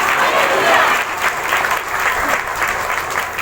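A church congregation claps loudly and steadily at a live Sunday healing meeting, a dense, continuous wash of hands from many people nearby with no pauses.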